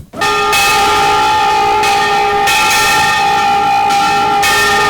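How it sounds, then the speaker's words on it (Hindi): A temple bell rings repeatedly in steady strikes, its bright metallic tone sustaining and overlapping between hits, loud and close with no voices. "मंदिर की घंटी बजवा रहा है"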